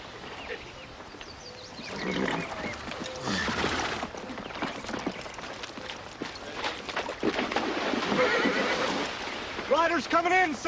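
Horses whinny loudly several times over galloping hooves and commotion, with voices shouting in the background.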